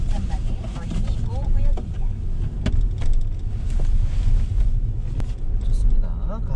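Car slowly pulling away from a stop on a city street during a driving lesson, a steady low engine and road rumble inside the cabin while people talk.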